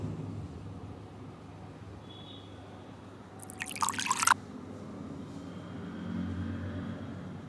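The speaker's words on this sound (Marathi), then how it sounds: "सर्वप्रथम पोहे स्वच्छ पाण्यात हलक्या हाताने धुवून घ्या" Flattened rice (poha) rinsed gently by hand in clean water: a low, steady wash of faint liquid noise with a brief splashing swirl about midway, no talking.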